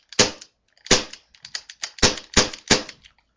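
A video game weapon fires about seven sharp, loud gunshots in an irregular sequence, with short gaps between the bursts and no talking.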